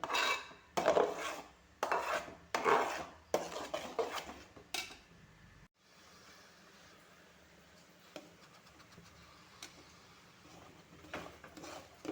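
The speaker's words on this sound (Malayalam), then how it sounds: "മിക്സിയിലടിച്ചത് നമ്മൾ സ്റ്റൗവിലേക്ക് വെച്ച് ഇളക്കിക്കൊണ്ടിരിക്കുകയാണ്" A spoon clatters and scrapes against a pan in bursts as a blended jackfruit mixture with ghee, dry ginger powder and salt is stirred on the stove. A quieter stretch follows with faint occasional scrapes and a low hum.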